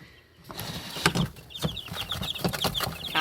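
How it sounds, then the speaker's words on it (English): Two-day-old leghorn chicks peep in quick, high, overlapping chirps close by, with soft rustling and bumps in their brooder. "Hi, leghorn chickies."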